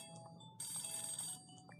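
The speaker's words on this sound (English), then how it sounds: "Telephone is ringing." A telephone ringing in the video game Imagine: Babyz, a short bright electronic ring burst that swells and fades, fairly quiet, with no talk over it.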